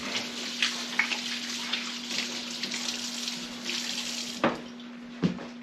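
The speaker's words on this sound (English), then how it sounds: "I'll wash off my hands a little bit." Tap water runs steadily into a kitchen sink while hands are washed under it, a continuous close hiss with a few soft knocks and splashes near the end.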